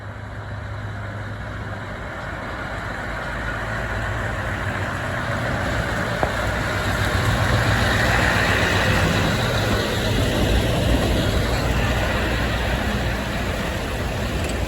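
A truck with four exhaust pipes, two running up the back of the cab and two out the side, rumbles and roars steadily under broad low-end engine noise, swelling slightly midway as it revs.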